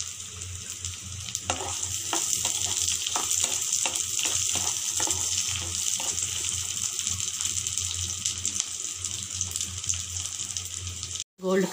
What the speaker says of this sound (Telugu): కరివేపాకు వేసి అది కాగిన తర్వాత ఎర్రగడ్డ వేస్తున్నాను.